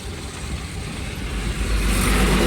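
A truck and a motorcycle pass on a road outdoors, a rumbling engine noise that swells louder as the vehicles draw near.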